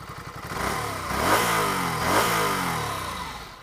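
A Ducati Scrambler Sixty2 400cc motorcycle engine revs up twice, rising and falling in pitch, with a throaty note from a compact exhaust heard close and loud, no speech.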